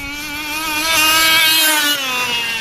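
A small-bore model engine runs at full throttle with a loud, close, high-pitched buzzing whine that wavers and blubbers slightly as it holds speed.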